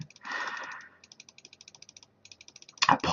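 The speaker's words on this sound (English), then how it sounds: "Apologies for that clicking noise." Rapid runs of small mouse clicks while playing the idle clicker game Adventure Capitalist, close and crisp, in several fast bursts separated by short pauses, ending in a louder rattling burst.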